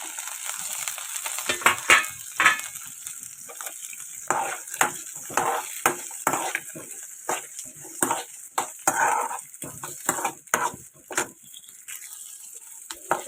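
Coconut pieces and tamarind fry in a pan for a coconut chutney while a spatula stirs and scrapes in uneven strokes over a soft sizzle. The stirring is close and loud, with no one talking.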